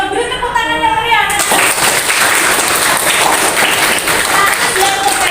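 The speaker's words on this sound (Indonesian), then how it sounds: "Beri tepuk tangan yang meriah" Classroom applause breaks out after a pupil's correct answer in a fiqh lesson, a dense wash of children's clapping that fills the room and stays steady for several seconds, with a teacher's voice heard briefly beforehand.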